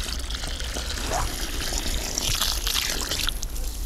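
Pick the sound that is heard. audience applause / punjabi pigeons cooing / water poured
water poured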